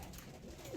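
A pigeon gives a soft coo among young birds being flown outdoors, faint and brief, ending with a slightly louder low call.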